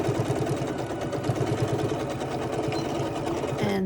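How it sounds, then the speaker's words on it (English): A sewing machine stitches straight down the side of a fabric face mask, its fast, steady mechanical whir and clatter close and continuous throughout. "And now you can sew straight down this side."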